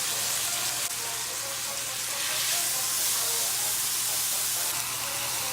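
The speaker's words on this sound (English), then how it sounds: "I'm gonna add it back onto the heat for just a little bit, just to get it stuck onto the steak to sear it on." Steak coated in A1 sauce seared back in a hot pan, a dense continuous sizzle with a low steady hum beneath, close and even throughout, no talk.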